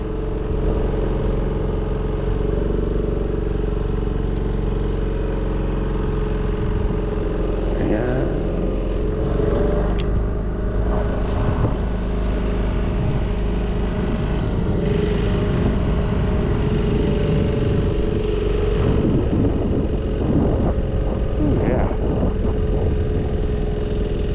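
A Cela DT80 80ft compact tracked spider lift raises its boom with a steady engine and hydraulic drone, plus intermittent clanks and rattles. Voices come through now and then.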